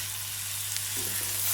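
Onion and tomato sauté in hot oil in a pan on a gas stove for a chicken masala, giving a steady soft sizzle with faint stirring and no voices.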